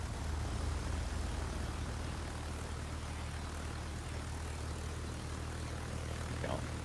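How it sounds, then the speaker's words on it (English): Propeller aircraft launched from the German Graf Zeppelin carrier in the naval game World of Warships, a steady droning engine roar with a low throbbing hum, continuous and loud throughout. "There we go. You're launching a plane."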